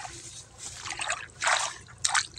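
Water trickles through a small, hand-cleared irrigation channel in a farm field in the Sakoli area of Bhandara district, making faint gentle gurgles that swell in short bursts.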